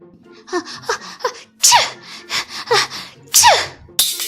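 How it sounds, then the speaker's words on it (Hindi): Several sneezes burst out one after another, some sharp and high, with short breathy gasps between them, close and loud. "ज्यादा भीग जाने की वजह से वो छींकने लगी"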